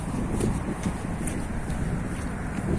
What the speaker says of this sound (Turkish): Bayağı bir rüzgar var.